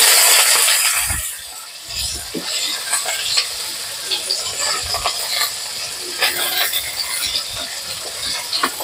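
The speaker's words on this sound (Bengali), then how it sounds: "তেলে একটু কাঁচা লঙ্কা দেবো, পেঁয়াজ কুচি দেবো" Green chillies and chopped onion sizzle and fry in hot oil, with a steady close crackle, spoon-stirring scrapes and clatter throughout, no voices.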